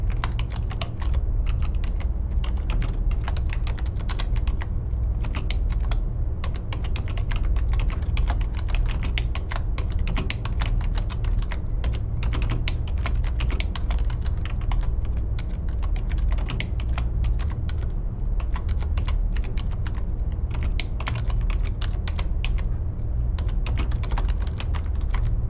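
Steady, rapid typing on a computer keyboard, with dense clicking keystrokes close to the mic and continuing without a break.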